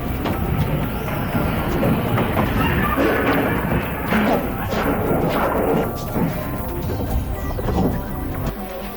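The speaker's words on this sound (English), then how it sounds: "Inside a cafe, staff and customers panic as the ground shakes violently." A powerful earthquake shaking a cafe in Hualien, Taiwan: loud, continuous rumbling and rattling with repeated crashes and clatter of objects, sustained throughout, with some voices faintly mixed in.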